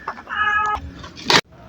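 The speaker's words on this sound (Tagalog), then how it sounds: "Ito na ang bagong pusa na naman." A newly adopted cat gives a drawn-out close meow, followed by a softer cry and a short sharp rustle, brief and fairly loud in a quiet room.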